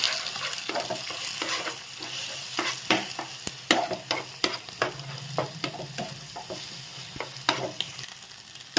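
A spoon stirs egg and potato fry in a hot pan, steady sizzling frying under repeated scraping strokes and clacks, close and fairly loud with no talk.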